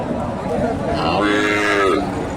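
Cattle at a busy livestock market in Bogura where Sahiwal and Jersey cows and calves are sold, with a loud, close drawn-out moo rising over the crowd's chatter.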